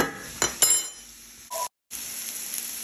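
Celery and onions saute in melted butter in a pan with a faint, close sizzle, a few light clinks of stirring early on, and a brief break before the frying resumes.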